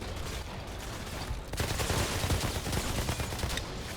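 Dense gunfire in the shooter game Outriders: rapid, overlapping shots and bursts keep up throughout, loud and close, intensifying midway, with no talking over it.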